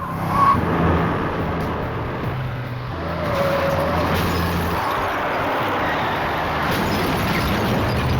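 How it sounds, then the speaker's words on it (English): A car speeding toward a house around midnight, its engine roaring steadily and fairly loud across the whole stretch with a rough, skidding edge, no voices. "he heard the sound of a car screaming towards his house"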